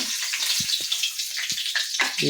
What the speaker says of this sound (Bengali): তেল দিয়ে আমি মশলাটা কষিয়ে দেবো। আমি তার জন্য তেজপাতা দিয়ে দিচ্ছি, একটু কালো জিরে ফোড়ন দিয়ে দিচ্ছি